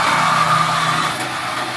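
A Jetmatic water pump motor runs steadily at close range after installation, a continuous mechanical hum with a low tonal drone and a faint higher whine, no talking.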